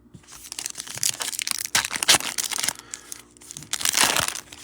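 Foil wrapper of an Illusions football trading card pack crinkles and tears open up close, a run of loud, uneven crackling bursts with short pauses between them.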